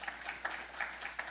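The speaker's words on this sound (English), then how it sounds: "give her a round of applause" A small audience at a keynote event claps in brief, quiet applause, a soft, distant patter with a few louder claps standing out.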